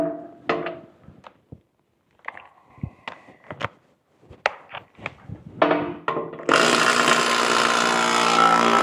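A Milwaukee rattle gun undoes bolts on farm equipment, giving a loud sustained whirring burst near the end after scattered clunks and knocks of tool handling.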